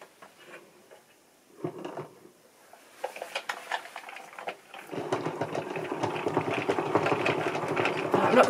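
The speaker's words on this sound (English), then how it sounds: "I will find my end and wind off half this yarn on a ball winder." Yarn winding off breakdown bobbins onto a ball winder during plying, a steady whirring, rattling crank sound that starts faintly with a few clicks and builds into continuous, louder winding for the last few seconds.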